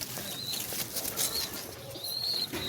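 Pigeons flap their wings in brief fluttering bursts close by, over a steady background hiss with a few faint chirps, and no talking.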